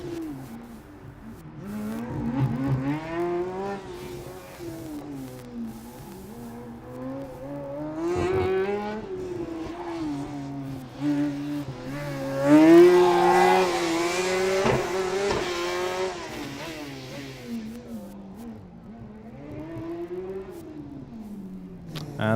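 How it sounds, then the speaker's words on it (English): Formula Student race car on an autocross run, its engine revving up and down in rising and falling sweeps, loud and fairly near, with a commentator talking over it. "And how's our car number 8 doing on track, Mickey?"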